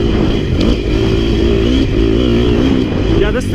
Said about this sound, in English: wheelie through a little acceleration whoops here